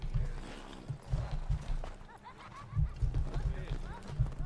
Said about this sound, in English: Just wanna use horses so I could get there faster.